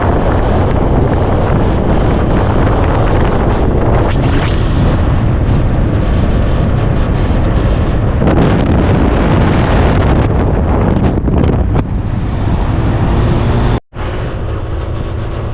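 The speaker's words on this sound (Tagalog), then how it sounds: "Naluluha ako sa hangin, sobrang lakas ng hangin." Very strong, constant wind roars and buffets the microphone for the whole stretch on a road trip, with a brief dropout near the end and no talking.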